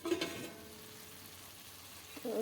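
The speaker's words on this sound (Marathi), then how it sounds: "गॅसची फ्लेम बंद कमी करून मी हा मसाला शिजू देणार आहे तेलाचा तवंग येईपर्यंत" Masala cooking in oil over a low flame, a faint, soft sizzle with a couple of brief scraping stirs at the start and end.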